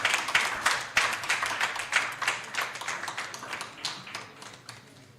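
Audience clapping at the close of a GIS Day event, a lively burst of applause with distinct sharp claps that starts loud and then gradually thins and fades over several seconds, with no talking over it.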